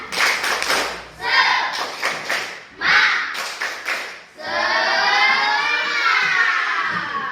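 Schoolchildren in a classroom do a rhythmic spirit clap together, with bursts of patterned clapping mixed with their voices. The clapping gives way to a sustained chorus of children shouting or chanting.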